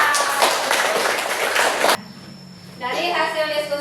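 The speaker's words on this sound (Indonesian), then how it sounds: "tepuk tangan buat kelompok 2" Classroom applause for a student group during an Islamic studies teaching session, steady clapping for about two seconds that cuts off abruptly, followed by quiet room tone and then a voice speaking.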